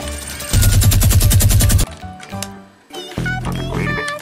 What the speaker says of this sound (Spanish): voy a pegar un tiro y me van a oír seguro. Los tiros siempre se oyen aquí en Brookhaven.